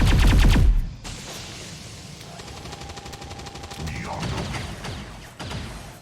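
Laser guns firing in the XCOM 2 video game, heavy rapid bursts of energy weapon fire and impacts during a firefight, loud at first then continuing under battle noise.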